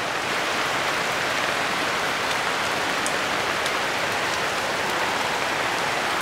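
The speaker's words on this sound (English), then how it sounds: "So I'll come into the waiting shed to get out of the rain." Steady, heavy rain hisses down in a dense wash, drops pattering on a waiting shed's roof nearby in the Philippines, with no voices.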